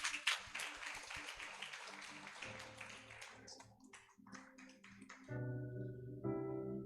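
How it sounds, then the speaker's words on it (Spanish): Church congregation applauding during a sermon, a brief clapping burst that fades into a speaking voice, with sustained music tones entering toward the end. "Dele un aplauso al Señor."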